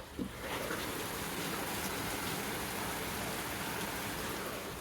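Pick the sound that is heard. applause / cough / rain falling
rain falling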